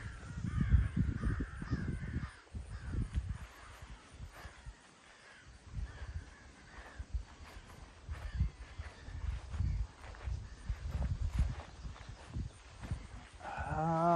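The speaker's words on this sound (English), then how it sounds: "You can see the birds. They just started to go crazy." Crows caw repeatedly over a state hospital cemetery, harsh calls scattered among wind and handling noise, some near and some farther off.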